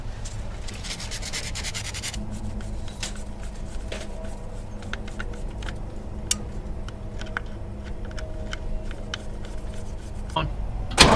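Rust being scrubbed off the brake rotor of a Cadillac Coupe Deville barn find: a steady, coarse rubbing and scraping texture with scattered sharp ticks and knocks, fairly close, with no speech over it.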